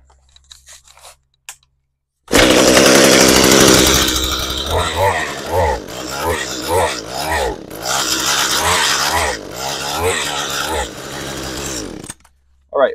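An Echo HC-150 hedge trimmer's small two-stroke engine catches after a quiet start and runs loud and close for about ten seconds. It buzzes raggedly and its pitch wavers up and down without climbing to full revs, then it cuts out.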